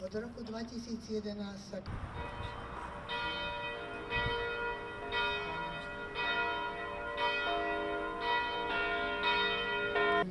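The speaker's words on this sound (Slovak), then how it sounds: "sa o 11. hodine a 11. minúte rozozneli zvony kostola Božského srdca v Holíči." The church bells of the Sacred Heart church in Holíč ring out at an outdoor memorial gathering, repeated strokes with a long ringing tail over steady background noise, after an opening stretch of murmuring crowd sound.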